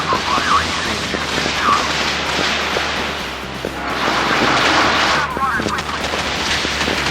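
Naval guns firing in the mobile warship game Modern Warships from a Type 055 Nanchang destroyer, with a dense stream of repeated blasts and sharp cracks over a constant noisy roar, loud and continuous.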